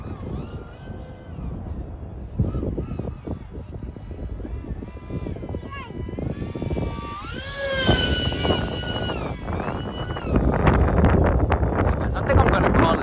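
Strong outdoor wind buffets the microphone with a steady broadband roar that swells louder toward the end, mixed with what sounds like distant engine noise.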